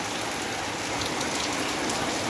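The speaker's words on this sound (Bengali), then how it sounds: "তো আমাদের এখানে তো বৃষ্টি শুরু হয়ে গেছে, মাঝে মধ্যে দমকা হাওয়াও দিচ্ছে" Steady rain pours down outdoors during a monsoon shower with occasional gusts of wind, a dense continuous hiss that stays even and fairly loud throughout with no voices.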